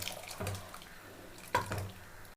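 Tamarind water pours into a pan while cabbage kootu is being cooked, in two quiet splashing gushes, the second louder and briefer, against a faint kitchen background.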